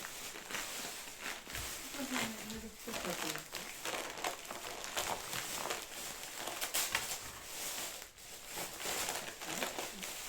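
Plastic vacuum-sealed packaging crinkles and rustles repeatedly, close to the listener, with a voice speaking faintly in the background.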